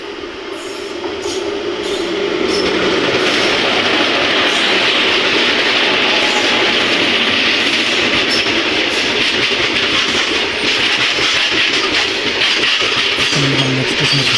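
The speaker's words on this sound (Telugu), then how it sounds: "అక్కన్నపేట్ స్టేషన్ వద్ద గూడ్స్ ట్రైన్ అనేది మనకు ఓవర్టేక్ అని చేయబోతుంది" A goods train overtakes on the main line at Akkannapet station, heard from a train halted on the loop line: a loud, sustained roar with rhythmic wheel clatter and faint squeals, building in the first seconds and then holding steady.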